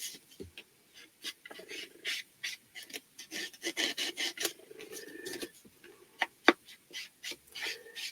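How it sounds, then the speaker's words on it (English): Distress-ink blending in the Scorched Timber shade rubs and scratches around the edges of a paper tag in quick, irregular light strokes, faint and close, with no talking. "with the scorched timber, I'm going around the edges of my tag"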